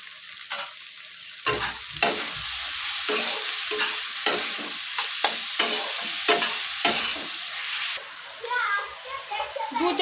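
Pasta with masala and ground coriander stirred in a frying pan, repeated scraping strokes of a spoon over a steady sizzle, with a voice faintly audible in the background.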